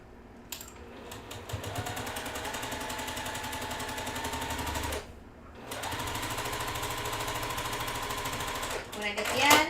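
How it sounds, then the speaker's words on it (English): Sewing machine stitching two quilt blocks together: a steady, fast mechanical chatter running close and continuous, a brief pause in the middle, then resuming and speeding up near the end. "now we're going to sew these 2 together"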